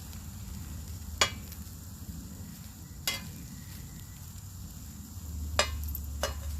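Vienna sausages sizzle in a frying pan with a soft, steady hiss, broken by a few sharp clicks and taps of a utensil against the pan, and nobody speaks.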